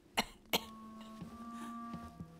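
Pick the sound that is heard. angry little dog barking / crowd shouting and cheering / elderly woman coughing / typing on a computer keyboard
elderly woman coughing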